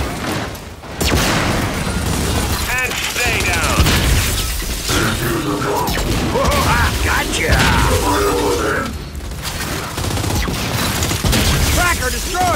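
Gunfire from Gears 5 Horde Frenzy combat: sustained loud bursts of weapon fire and mechanical clatter, with cracks and impacts over a dense game soundtrack, while game character voices shout through much of it.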